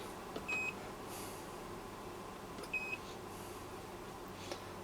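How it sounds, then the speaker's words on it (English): Two short, high electronic beeps from a Mustool MDS M Pro multimeter, a couple of seconds apart, over a quiet hum of background noise. "you can hear a beep every time we do something."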